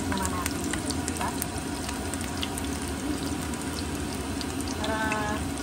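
Garlic fries in a pan with a loud, steady sizzle that holds throughout, with occasional small clinks and a faint voice underneath.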